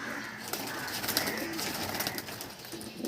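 Pakistani teddy pigeons and their young in a loft coo softly and repeatedly against a steady, hissy background, with no voices.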